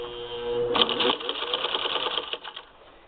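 A Singer 15-91 sewing machine fitted with an antique automatic zigzagger stitches zigzag through two layers of chambray, a close, steady rapid mechanical clatter that starts abruptly after a faint hum and gradually slows and fades.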